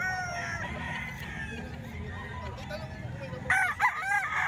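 A rooster crows loudly and close by at a busy chicken market, one clear crow near the end rising over a background of clucking fowl and low crowd murmur.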